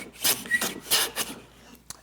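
Hand plane trimming wood end grain on a shooting board, giving several quick rasping strokes in a steady back-and-forth rhythm, close and clear, ending with a small knock.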